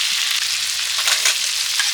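Prawns frying together in a pan give a steady, close sizzle with a bright crackling hiss that holds evenly throughout, with no voices.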